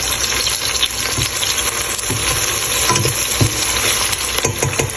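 Onions frying in a pan for mutton bhuna, a steady loud sizzle with occasional soft scraping and stirring knocks throughout, close up with no talking.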